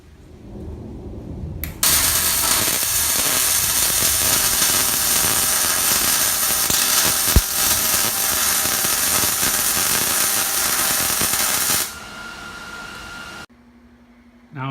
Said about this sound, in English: I'll be grinding the surfaces to clean them up before welding on